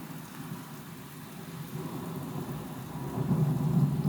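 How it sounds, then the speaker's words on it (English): A thunderstorm pours heavy rain in a steady hiss while a low rumble of thunder builds and grows louder toward the end, with no voices. "Oh my god, there is a lot of rain."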